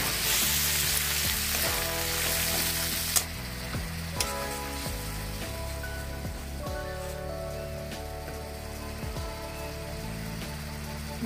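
Ground spice paste with turmeric sizzles steadily in hot oil after fried onion and garlic, for a rohu fish curry, with a loud continuous crackle and a few clanks of a spoon against the pan.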